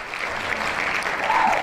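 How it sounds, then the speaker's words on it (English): Hand claps sound effect triggered during a live stream: a dense burst of many overlapping claps like a crowd applauding, steady and fairly loud throughout, with no talking. "I hit the hand claps"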